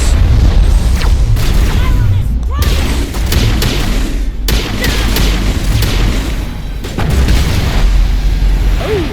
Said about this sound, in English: Oh, somebody hit me with a grenade.